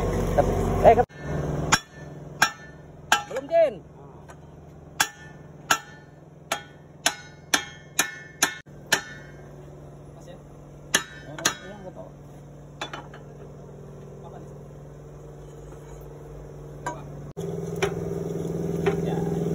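A big hammer strikes metal during repair of a leaking adjuster seal on a Caterpillar bulldozer: about a dozen sharp, ringing blows in an irregular burst, then a few scattered hits, over steady workshop hum and distant voices.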